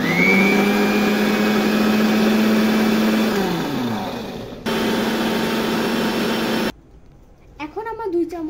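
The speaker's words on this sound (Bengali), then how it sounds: "এখন আমরা এটা আরো ভালোভাবে ব্লেন্ড করব।" A blender whirs loudly while blending mango into juice, its motor pitch sagging as it winds down, then running again briefly before stopping abruptly; a voice then speaks.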